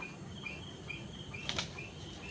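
A grown bird with an injured leg beats its wings repeatedly but cannot take off, giving soft rhythmic flapping bursts over a quiet, steady background hum.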